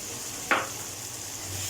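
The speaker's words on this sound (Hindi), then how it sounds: "अब मसाला हमने फ्राई थोड़ा सा भून लिया" Masala with coriander and white cumin fries for saag, a steady hissing sizzle with one brief scrape of a spoon against the pan, heard alone without talk.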